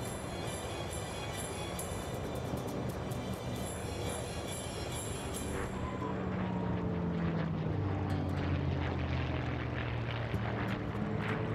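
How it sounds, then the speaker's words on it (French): A P-51D Mustang propeller fighter drones in flight, a faint, steady engine roar that grows slightly fuller in the second half as the pitch of the engine shifts downward. "Le son du Mustang, c'est quelque chose d'extraordinaire."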